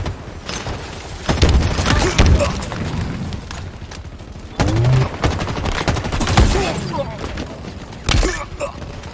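Gunfire and explosions from Halo Infinite gameplay come in loud bursts, with heavy booms and rapid shots in clusters separated by brief lulls, alongside game voice callouts.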